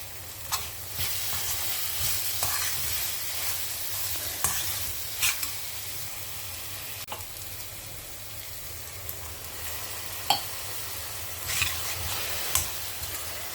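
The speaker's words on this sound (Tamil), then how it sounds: "இப்போ இது நல்லா வதங்கி கொஞ்சம் எண்ணெய் பிரியட்டும்." Vegetables sauté in oil in a pot for a one-pot Tamil bell pepper dish, a steady close sizzle running throughout with occasional sharp scrapes and taps of a spoon stirring against the pot.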